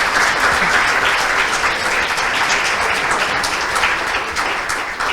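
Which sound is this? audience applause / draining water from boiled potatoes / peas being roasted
audience applause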